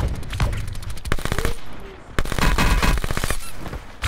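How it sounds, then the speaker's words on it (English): Rapid automatic gunfire in a shooter video game aimed at the player, loud bursts of closely spaced shots with a short lull in the middle before the firing resumes. "Oh, being shot at."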